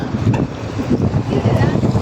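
A small tugboat engine chugs over gusting wind noise, with muffled water sounds and a voice faintly audible in the background.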